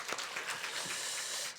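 A church congregation applauding during a service, steady dense clapping from a crowd filling the room for a brief stretch, moderately loud and without voices over it.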